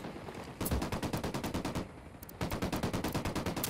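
Automatic gunfire in Ghost Recon Wildlands: two long, rapid bursts of loud, evenly spaced shots separated by a brief pause, with no talking.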